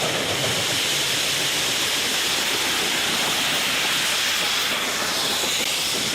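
Steam train of the Western Maryland Scenic Railroad emerging from the 914-foot Brush Tunnel, built 1911, wrapped in a loud, continuous roaring hiss of steam that stays dense and unbroken throughout.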